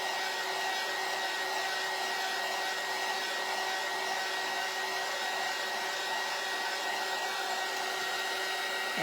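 Hair dryer blowing steadily on a napkin, a constant loud whooshing hum held throughout with no pauses and no talking.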